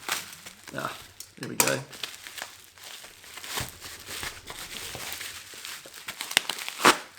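Crinkling plastic and paper wrapping pulled off an Insta360 ONE X2 camera box, close and fairly quiet, with bursts of rustling and tearing and someone speaking briefly.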